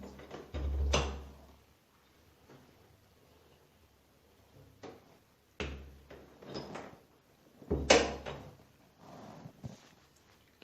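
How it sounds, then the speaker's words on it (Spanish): A bedroom door opening slowly, heard as a few separate thumps and knocks with long quiet gaps between them, moderately close in a silent room. "De repente escuché que la puerta de mi habitación se abría lentamente."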